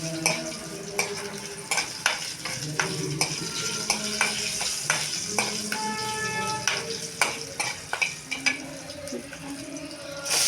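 Curry leaves and green chillies crackle in hot oil for a radish curry, a steady sizzle dotted with sharp pops and spatters, with utensil stirring scrapes close by.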